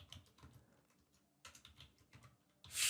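Soft, quick keystrokes on a computer keyboard while an email is composed, clattering in irregular bursts close to the microphone, fairly quiet overall with no talk.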